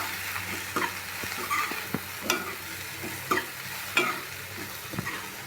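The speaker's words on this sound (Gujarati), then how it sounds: "બસ રઈ તતડી જ જાય છે રઈ તતડી જાય એટલે આપણે નાખીશું હિંગ" Mustard seeds crackle and sizzle in hot oil, a steady frying hiss broken by sharp, irregular pops close by, with no talking.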